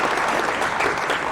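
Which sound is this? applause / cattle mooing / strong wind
applause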